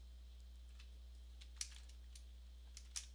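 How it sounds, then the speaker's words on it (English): Soft, sparse keystrokes on a computer keyboard, a few faint clicks with two slightly sharper taps, entering a code command in Python, alone over a low steady hum. "So I'm going to type in stock close"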